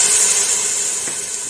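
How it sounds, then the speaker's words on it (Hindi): A cup of water poured into hot frying masala of cumin and garlic-ginger paste makes a continuous loud hiss and sizzle, close up and unbroken, with no voices. "इसमें मैं अब 1 कप पानी डालूंगी"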